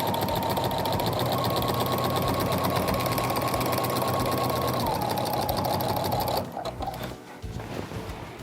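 A basic-model sewing machine with a walking foot quilts steadily and fast with a continuous mechanical whir, then slows and stops near the end, followed by quieter handling noises.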